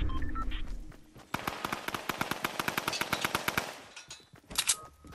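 Tommy gun in the Fortnite video game fires a long rapid burst of evenly spaced, sharp shots for several seconds, moderately loud, followed by a couple of scattered louder bangs near the end.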